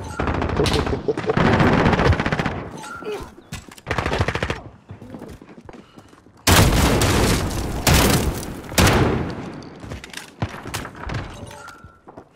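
Gunfire in Call of Duty: Modern Warfare, loud machine-gun bursts and rapid shots in several stretches separated by brief lulls, close and intense, with some voices mixed in.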